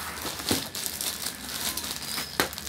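Shoe packaging crinkles and rustles up close as a box is unpacked, with sharper crackles standing out now and then over a steady papery rustle.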